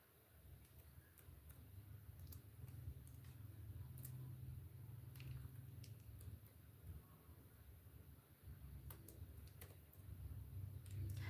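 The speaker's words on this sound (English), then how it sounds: "I'm typing another question." Quiet, irregular clicks of typing on a computer keyboard during a livestream, scattered sharp taps over a low background hum with faint traffic-like rumble.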